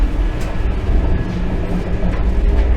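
Aboard the Howrah–Puri Vande Bharat Express (22895) as it pulls out of Balasore station, a steady low rumble of running gear fills the carriage, with faint rail clicks.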